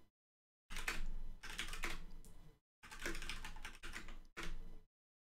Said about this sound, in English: Sometimes I forget I have to type that manually.